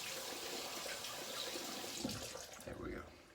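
Warm water runs from a tap to wet a shaving brush, a steady hiss of flow filling the clip with a brief splashy change near the end.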